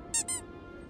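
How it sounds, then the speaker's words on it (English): Two quick high squeaks from a squeaky toy sound effect in a video game, sharp and bright, played back to back over a faint steady background hum. "Maybe some squeaky toy sounds?"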